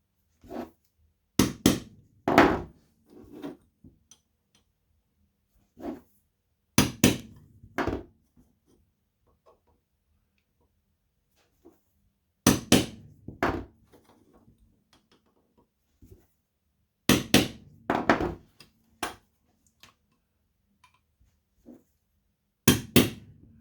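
End caps are tapped onto a copper pipe in sharp, close knocks that come in small clusters of two or three, separated by quiet pauses, with no talking.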